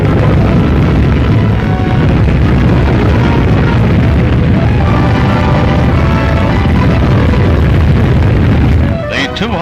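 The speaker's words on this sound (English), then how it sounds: "France presses forward with this first in a series of firings to force her way into the exclusive nuclear club. This first blast" A French nuclear test blast in an archival newsreel booms as a loud, sustained roar, continuous and rumbling for several seconds before cutting off abruptly.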